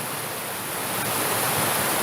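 Anderson Falls in Indiana pours over a rock ledge as a loud, steady broadband roar of rushing water, heard close to the top of the falls, unbroken and swelling slightly toward the end.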